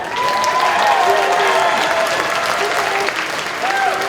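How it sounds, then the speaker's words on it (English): An audience at an improv Dungeons & Dragons panel at Anime Central 2025 applauds a potential fighter, a steady, loud round of clapping from a crowd with tonal voices and whoops ringing over the top. "All right, everybody, a round of applause for the potential fighter"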